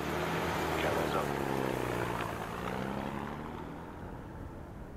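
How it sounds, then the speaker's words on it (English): Airplane engine in the video game Ghost Recon: Future Soldier, droning steadily as the plane prepares for takeoff at an airstrip, with a loud sustained hum and harmonic whine that fades slightly toward the end. "Looks like the plane's prepping for takeoff."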